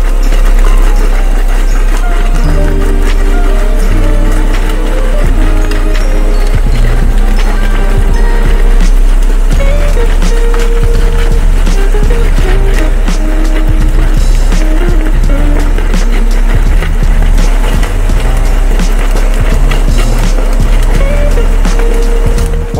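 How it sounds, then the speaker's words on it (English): A hydraulic filter sock making machine runs continuously, loud and close, with steady mechanical churning and rhythmic clattering pulses throughout and no voices. "turn on the hydraulics, start feeding them sock"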